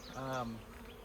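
A steady honey bee buzz hums close by for about a second, a droning tone that rises slightly, then fades into a fainter background hum.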